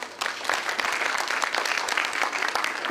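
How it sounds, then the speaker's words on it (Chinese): At a teacher's retirement celebration, a roomful of people claps in dense, sustained applause that starts up quickly and keeps a steady loud level throughout. "我们再次的掌声欢迎他"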